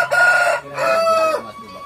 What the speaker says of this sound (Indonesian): Suara ayam berkokok di sini sahabat.